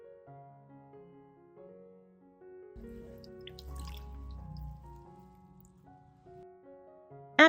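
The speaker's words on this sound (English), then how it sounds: "Rinse with water." Tap water splashes and trickles over parsley and green onions being rinsed, a steady low wash running mid-clip beneath soft background music, ending with a sharp clatter.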